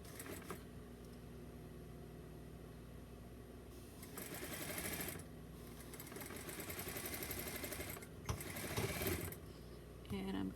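A sewing machine stitches a back stitch on a doll romper in bursts of steady mechanical whirring, with pauses between runs and a person talking over parts of it.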